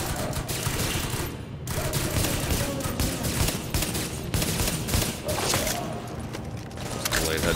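Loud bursts of rapid gunfire from The Division come in repeated volleys with short pauses, and voices talk over the shooting.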